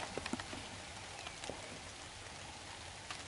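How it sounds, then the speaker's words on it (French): Quiet, steady rain falls outside, a soft continuous hiss with a few faint drips near the start. "vous voyez, dehors, il pleut"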